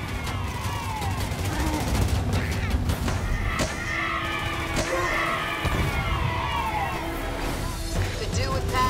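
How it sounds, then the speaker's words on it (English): Ground troops fire on a Spartan in the video game Halo Wars 2: repeated sharp gunshots and thuds crack over a rumbling battle, with voices speaking through the action. "Spartan 130 is under fire from ground troops."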